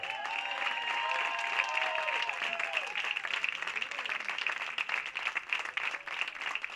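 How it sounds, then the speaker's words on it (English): Crowd at a minor-league baseball game between the Alameda Anchors and Sonoma Stompers applauds steadily in the stands, a broad sustained clapping with some cheering and a faint whistle-like tone, loud and continuous throughout. "Let's have a big round of applause for Eddie"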